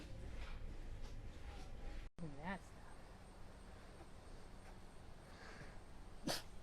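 A wild cat at a wildcat sanctuary lets out a single sharp sneeze near the end, short and fairly loud, while a person speaks softly in the background.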